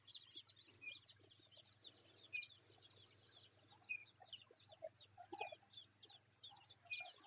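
Scattered high peeping chirps from layer, broiler and desi chicken chicks come in small bursts, with a few soft low clucks from hens in an otherwise quiet space.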